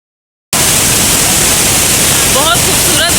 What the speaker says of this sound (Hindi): पानी का आप देखें, इतना ज़्यादा बहाव तेज़ था